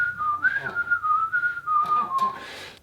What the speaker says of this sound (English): he starts to whistle a tune.